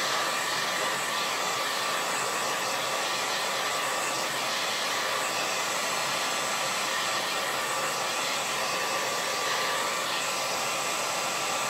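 A hair dryer blows steadily on a wet watercolor painting, a constant close, even whoosh and hum that runs unbroken the whole time with no talking.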